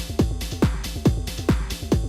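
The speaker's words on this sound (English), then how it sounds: "allowing us more room to maybe add other sounds like this clap" A Eurorack techno modular synth plays a looping pattern of a punchy kick and a sharp clap in a steady, repeating rhythm, with short percussive hits up front.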